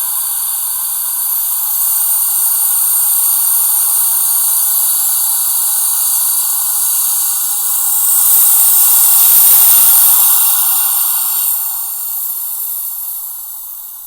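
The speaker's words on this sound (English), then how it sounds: "try to gently squeeze down on the lever and slowly release the gas" Pressurized gas hisses out steadily as a lever is squeezed gently on a spirit-infusing siphon, a loud continuous rush that swells in the middle and then tapers slightly toward the end.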